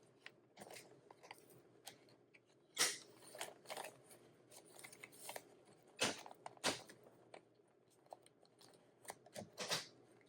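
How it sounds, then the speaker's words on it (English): Quiet, close snipping and crunching of scissors cutting tearaway embroidery stabilizer, irregular bursts of short sharp cuts with small rustles between them. "Oh, I gotta grab some scissors."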